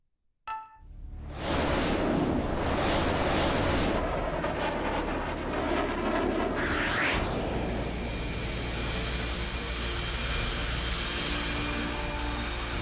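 Eurofighter Typhoon jet in the combat flight game H.A.W.X 2 spooling up and roaring down the runway for takeoff, a loud sustained engine blast that swells after a brief start and holds steady with a broad rumbling roar.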